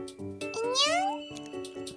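Voice imitating a cat: a single drawn-out meow with a rising then falling pitch, close and clear, framed by soft background tones.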